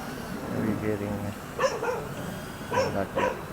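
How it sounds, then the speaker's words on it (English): A dog barks a few times in short bursts in the background, mixed in with people talking nearby. "That's my dog."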